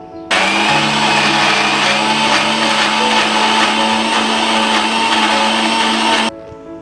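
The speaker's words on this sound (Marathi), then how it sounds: "आता आपण हे मिक्सरमध्ये बारीक करून घेऊया" A mixer grinder blending chutney with curd and salt runs loud and steady for several seconds, a whining motor roar close up that starts and stops sharply.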